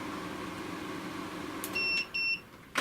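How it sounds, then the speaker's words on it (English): A Record Power AC400 two-stage workshop air filter gives a double beep as it switches off, two short tones close together standing out over a low, steady fan hum. "So you get a double beep to confirm that it's switched off."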